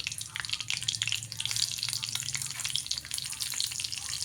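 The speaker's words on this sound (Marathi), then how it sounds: "कढीपत्ता टाकून घेतलेला बघा लालसर झालेला आहे कढीपत्ता आता मिरच्या टाकून घेऊया" Green chilies and reddened curry leaves fry in hot oil for a homemade sambar, crackling fast and bright up close, with busy spitting pops over a steady hiss and no voices.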